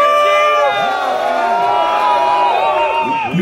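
A crowd at a bare-knuckle fight at the Gathering of the Juggalos cheers and whoops loudly and continuously, with shouting voices rising and falling close to the microphone.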